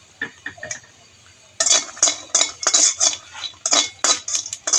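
A spatula stirs peeled garlic cloves in a pan for a dried-fish mash with green chillies, a few light taps and then quick rhythmic scraping strokes, close and distinct.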